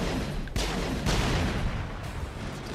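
Gunshots from the video game Mass Effect, with three sharp, loud bursts at roughly half-second intervals, each followed by a rumbling tail over a dense combat background.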